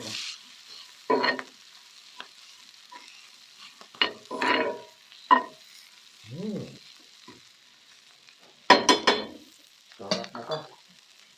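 A spatula works sisig with egg in a frying pan: scattered scraping strokes and clinks against the pan over a faint steady sizzle, close and fairly quiet, with pauses between stirs.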